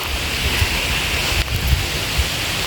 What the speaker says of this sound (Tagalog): medyo may mahangin.